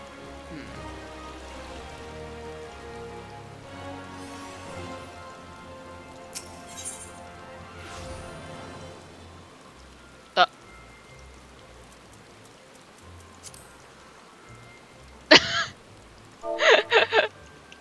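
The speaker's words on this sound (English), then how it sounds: "It's always raining in Ulda." Rain falls steadily in Final Fantasy XIV in the city of Ul'dah, a soft continuous patter under game music, with a few sharp clinks and clatters near the end and a voice talking.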